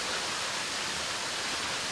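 Minnemishinona Falls in Minnesota pours close by, a steady dense roar of falling water that fills the air evenly with no pauses or voices.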